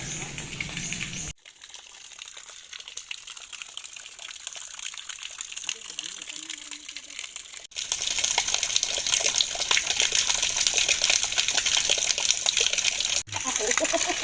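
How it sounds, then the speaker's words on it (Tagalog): Mountain spring water flowing and trickling, a continuous splashing gush that drops briefly, then returns louder and steadier, with people talking nearby. "yun ang tubig bukal tulo yan"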